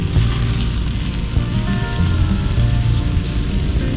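Steak with peppers and onions on a grill flaring up, a steady loud broadband sizzle and crackle like heavy rain, continuous throughout with no talking.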